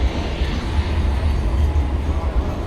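A Sydney tram heading to Circular Quay rumbles past nearby on a city street, a dense, steady low roar of wheels and motor that holds for the whole stretch without letup.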